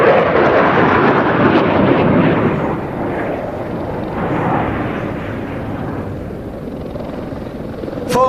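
Eurofighter Typhoon fighter jet in a display at the NATO Days and Czech Air Force Days airshow, a loud, sustained broadband engine roar that swells and fades gradually as it passes, ending with a short sharp burst.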